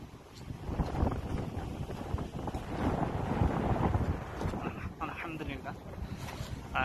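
A boat moves across the water on a trip, giving a steady, wind-buffeted rumble close to the microphone, with a voice speaking over it.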